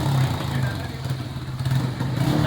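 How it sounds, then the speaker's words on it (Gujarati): A repaired Honda Hornet 160 motorcycle engine idles with a steady, even low hum and light mechanical clatter throughout. "જો ફાઇનલી બાઇક આપણું ચાલુ થઈ ગયું"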